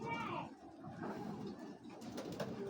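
A Belgian-bred female racing pigeon coos softly in a loft, with low throaty calls heard close up beneath a man's ongoing speech.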